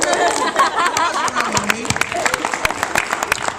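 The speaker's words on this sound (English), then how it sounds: "Give her a hand. Everybody clap." Scattered audience clapping at a question-and-answer event, sharp individual claps building into a short burst of applause mixed with crowd chatter and light laughter.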